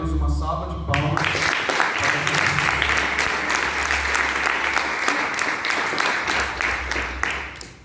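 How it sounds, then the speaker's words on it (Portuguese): Church congregation breaks into a sustained round of applause after a short opening stretch of speech, the clapping loud and dense, with a voice and a low background tone running underneath before it tapers at the end. "Glória a Deus, uma salva de palmas."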